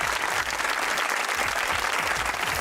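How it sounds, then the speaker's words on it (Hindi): A studio audience at the Hasna Mana Hai talk show applauds steadily, thick continuous clapping that fills the room without let-up. "चलते ताली होनी चाहिए जमहूरियत के लिए"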